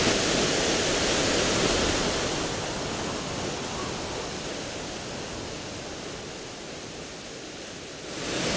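A waterfall on a small stream roars steadily, a dense continuous rush of falling water heard up close with no voices, slightly louder at the start and end.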